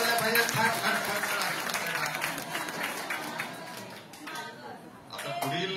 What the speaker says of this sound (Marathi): आपण सर्वांनी टाळ्या वाजवून गोंस मॅडम आणि सावी मॅडमचं स्वागत करावं.